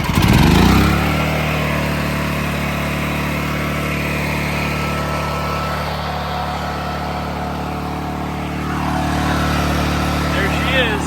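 A small junk engine catches after a choke start and settles into a steady, buzzing run close by, growing slightly louder near the end.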